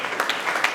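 Audience at a movie premiere clapping briefly, a thin patter of hands with a few sharper claps standing out.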